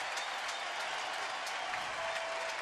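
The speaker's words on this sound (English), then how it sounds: "They're cheering on the Rockies for the wonderful inning they just gave up." Large baseball crowd at AT&T Park cheering and applauding after an inning ends, a steady distant wash of applause and crowd roar with no break.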